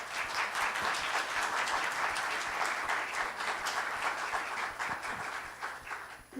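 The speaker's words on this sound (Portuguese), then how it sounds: "Eu peço um aplauso de boas-vindas para a Cris." An audience at a talk by Cris Guerra gives a steady, full round of welcoming applause, dense clapping filling the room without pause before tapering slightly at the end.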